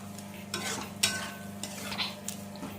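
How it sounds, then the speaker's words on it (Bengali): Spice masala for mutton curry frying in oil and being stirred, with a continuous sizzle, a low steady hum, and several scraping and clinking strokes of a spoon against the pan, close by with no talking. "আমি মশলাটাকে আরও ভালো করে একটু কষিয়ে নিলাম"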